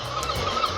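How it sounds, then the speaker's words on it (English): A sleep alarm clock plays its beach-waves-and-birds sound setting, giving soft washing surf under repeated short honking bird calls, moderately loud with no talk. "beach, waves, birds."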